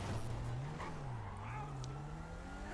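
Sentinel car in GTA Online driving with a steady droning engine note that rises and dips, faint skid and tire noise mixed in, heard at moderate distance.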